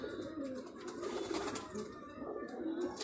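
Pigeons, Firozpuri fancy birds, coo softly and continuously in a steady low murmur amid background hum, with faint voices nearby.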